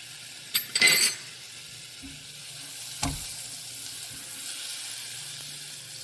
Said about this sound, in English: I have a hot saucepan. I'm adding 1 stick of butter and I'm gonna melt that up.